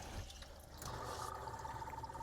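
Water flowing into a Nero 7 Pro reverse osmosis filter right after the supply valve is opened, a faint, soft trickling and hissing rush that rises slightly partway through, heard alone.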